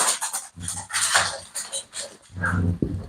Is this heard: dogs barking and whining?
yes